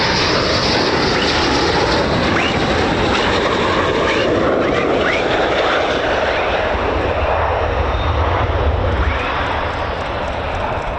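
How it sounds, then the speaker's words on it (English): US Air Force F-15 fighter jets taxi at an airbase, their engines giving off a loud, continuous roar that swells and rumbles for the whole stretch without a break. "We've got more F-15s taxiing down."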